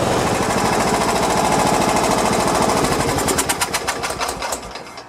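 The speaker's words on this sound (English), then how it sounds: "it's been idling for quite a long time" Kawasaki FC420V engine on a John Deere 170 mower running close by, a loud rapid pulsing chug that slows into distinct separated beats as it winds down near the end.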